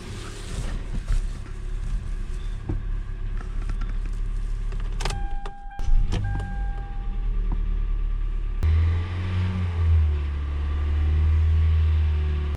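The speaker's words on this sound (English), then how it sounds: "the car's warming up and running" A car engine idles steadily with a low rumble, a few brief clicks and mechanical noises midway, then the engine note deepens and revs slightly.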